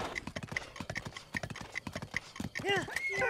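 Horse galloping in The Legend of Zelda: Breath of the Wild, a rapid run of clip-clop hoofbeats under someone talking excitedly, with a brief whinny-like tonal sweep near the end.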